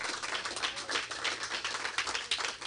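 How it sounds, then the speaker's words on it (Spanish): A church congregation claps together during a worship service, giving a steady, dense patter of hand claps that sounds somewhat distant and continues without pause. "Démosle un aplauso al Señor, hermano"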